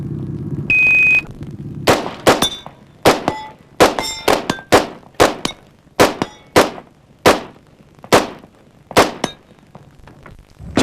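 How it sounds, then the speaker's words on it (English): Semi-automatic rifle fire at a steel shooting championship stage, about a dozen loud sharp shots in a steady rhythm, each followed by a ringing clang of struck steel, after a brief start tone. "he can shoot a semi-auto"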